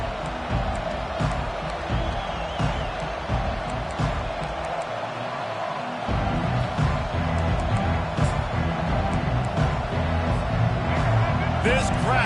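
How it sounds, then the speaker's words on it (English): Stadium crowd roaring at a college football game between Oklahoma and Virginia Tech, a dense continuous wall of cheering that swells louder midway, with a commentator talking over it. "This crowd bringing an ear-splitting welcome to their visitors."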